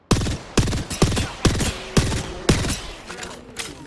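Single gunshots in the Apex Legends video game fire in a steady rhythm, about eight sharp, loud reports roughly half a second apart, with no voices over them.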